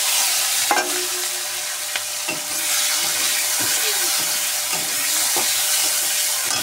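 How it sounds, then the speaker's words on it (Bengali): Cumin seeds sizzling in hot oil, a dense continuous crackle and hiss heard up close, with scattered sharp pops and light scraping, no voices. "তেলে জিরে দিয়ে দিয়েছি"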